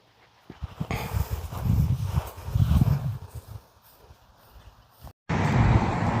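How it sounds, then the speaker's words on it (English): Road noise from a 1994 Toyota Sera with a specialty body kit, heard as a steady, loud broadband rumble and wind wash that rises and falls, briefly cuts out, then returns at full strength. "Sorry for the road noise"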